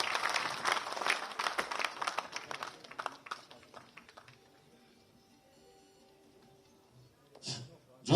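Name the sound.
audience applause at award ceremony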